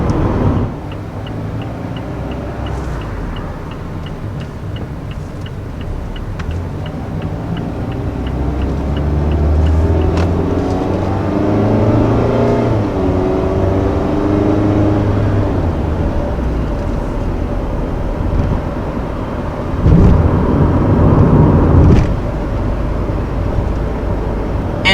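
A 2019 Mazda MX-5 Miata Grand Touring cruises along a road, its steady engine drone and road rumble continuous and fairly loud from inside the car, swelling slightly near the end.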